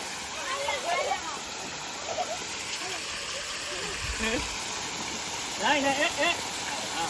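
Water pours steadily out of a homemade swimming pool as it is emptied, a constant rushing wash running the whole time beneath children's and adults' voices.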